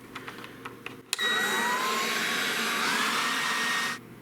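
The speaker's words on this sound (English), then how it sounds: "I was in the market for a small battery-powered leaf blower, and the #1 recommended was SnapFresh." SnapFresh cordless battery-powered leaf blower with a 20-volt battery, preceded by a few soft clicks, then it spins up to a loud, steady whirring airflow with a whine that rises in pitch, running about three seconds before cutting off.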